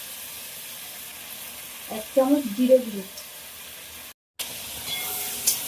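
Papaya pieces and spices frying in a pan for a vegetarian soybean and potato curry, a steady soft sizzle throughout while someone speaks briefly over it.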